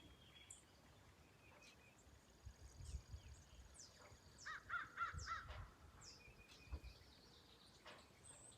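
Crow cawing in the open while chasing a hawk, a few harsh caws spread across the clip, fairly distant over steady outdoor background noise with faint insects.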